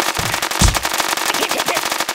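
Rapid gunfire from weapons in the mobile game Kick The Buddy: a fast, dense string of sharp cracks, loud and close, with one heavier hit near the start and no speech.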